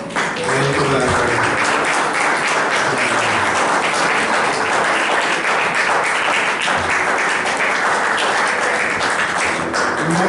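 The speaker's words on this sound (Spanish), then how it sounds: "Y le das una ofrenda de palmas al Señor Jesucristo." A church congregation claps together during a worship service, a loud sustained wash of applause filling the room for several seconds with voices mixed in beneath it.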